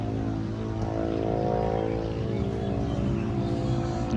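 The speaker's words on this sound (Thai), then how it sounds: "เครื่องยนต์นะครับ" A Kobelco SK200 Mark III excavator's diesel engine runs at a steady, loud idle, a continuous droning rumble with no variation.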